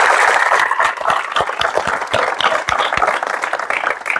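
Audience clapping at a gathering, a dense burst of hand claps with sharp individual slaps, loud and continuous for several seconds with no speech over it.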